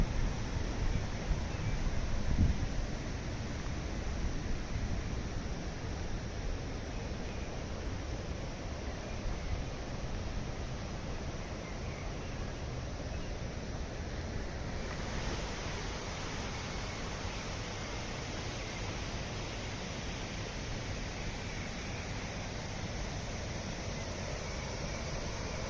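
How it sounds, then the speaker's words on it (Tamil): A river flows behind a building in a quiet area of lakes, forest and hills, heard as a steady, broad rushing wash that stays even throughout with no talk. "இந்த ஆறோட சத்தமே அவ்வளோ அழகாக இருக்குது."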